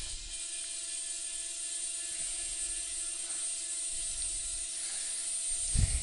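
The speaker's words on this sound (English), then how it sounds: "the mill will now proceed to cut out that layer" A PCB milling machine cuts a board outline through fiberglass, giving a steady high whine with constant tonal hums and a mechanical rattle that thickens near the end.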